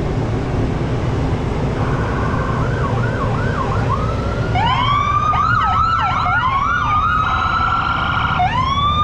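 A wailing ambulance siren over constant city road traffic rumble in Canada, growing louder as a second siren joins with rising and falling yelps.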